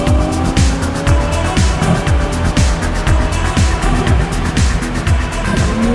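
Toyota Supra engine under load while driving, a loud, steady mechanical roar with rhythmic pulsing and revving, joined by squealing tires and skids throughout.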